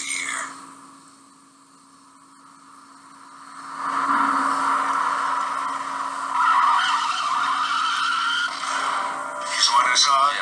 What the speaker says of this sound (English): that's what I heard just before the tire blew out